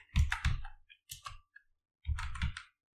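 Keystrokes on a computer keyboard while entering a SQL command to list MySQL databases on a Mac, heard as two short bursts of close, crisp clicking separated by a pause.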